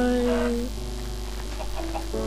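Chicken clucking in the Minecraft video game, a few short game-sound clucks over a steady low hum, with no talking.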